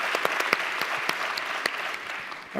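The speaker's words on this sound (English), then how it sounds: "Let's give him a big round of applause for that." A small group claps continuously, loose uneven hand claps at moderate volume that thin out toward the end.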